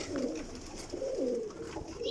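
A Kamgar pigeon gives repeated low, rolling coos, three or four close phrases in a row, near and clear over a faint background hum.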